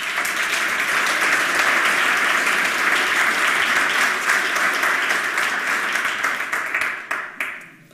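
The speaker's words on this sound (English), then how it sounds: "Please give him a round of applause of welcome." An audience at a 27C3 conference talk on SIP home gateway security applauds in a dense, sustained wash of clapping that holds steady and then thins out and fades toward the end.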